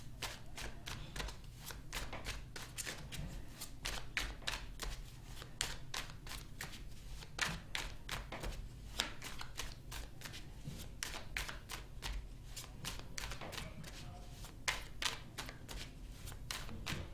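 Tarot cards being shuffled continuously by hand, a steady run of rapid riffling snaps and soft slaps close up, with a faint low hum underneath and no talking.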